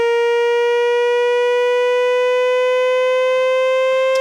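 A clean synthesizer tone with rich harmonics, steady and loud, bending slightly upward in pitch toward the end with a faint noisy burst at the close.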